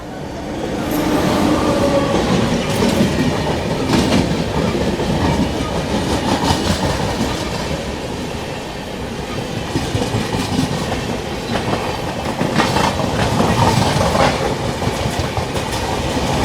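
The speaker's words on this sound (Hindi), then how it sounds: "इस सामने से आ रही है एर्नाकुलम टाटानगर एक्सप्रेस।" The Ernakulam Tatanagar Express rolls past a junction station, a loud, sustained rumble with rhythmic clickety-clack of wheels over rail joints throughout.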